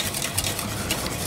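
Eggs being stirred into the cream for pastel de nata: a steady, close scraping and swishing of a whisk or spoon in a bowl, with no talking.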